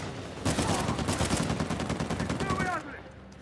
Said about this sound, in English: Now you can pick up his machine gun and go machine gun mono y mono